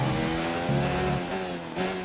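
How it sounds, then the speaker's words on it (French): A Honda Formula 1 engine in F1 2019 at the Spanish Grand Prix screams at high revs, with quick gear shifts changing its pitch, loud and sustained with no voices. "Le moteur Honda respire particulièrement bien ici."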